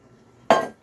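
Wet brownie ingredients dumped into a mixing bowl land in one sudden splashing clatter with a clink against the bowl, then fade, followed by a quiet rustle.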